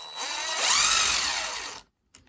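A cordless power driver whirs steadily for nearly two seconds, removing the shock screws on a Traxxas 2WD RC car, then cuts off abruptly, followed by a faint tick.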